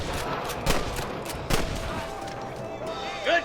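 Scattered gunshots ring out during a Red Dead Redemption shootout, several sharp cracks spaced irregularly over a busy background of game noise.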